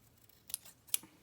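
Scissors cut through a fabric ribbon: two quick, crisp snips about half a second apart, close and fairly quiet, with no talking.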